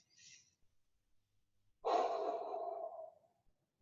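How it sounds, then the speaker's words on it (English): A deep, slow breath drawn in during a beginner core-restore workout lasts about a second, close and clear, after a brief faint breath. "Deep breath in,"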